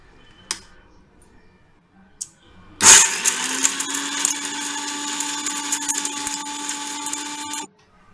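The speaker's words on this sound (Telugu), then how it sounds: "మిక్సీలో మన మసాలా దినుసులు అన్నీ వేసుకొని మిక్సీ పెట్టుకోవాలి" A couple of faint knocks, then a mixer grinder grinding whole spices roars on loudly and whirs steadily for several seconds before cutting off abruptly.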